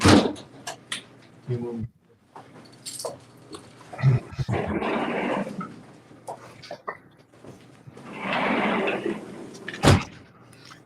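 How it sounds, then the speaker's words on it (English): Several knocks and thumps of a door being moved and shut, mixed with longer scraping swells and a brief spoken word nearby. "I can hear that door."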